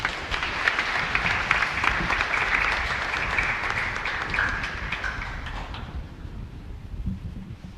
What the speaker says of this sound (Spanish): el aplauso para ustedes entonces